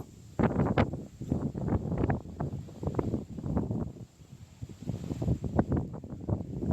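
Gusts of wind buffet through tall swaying grass on a misty Idukki hillside, coming in rough, rumbling pulses that rise and fall close to the microphone.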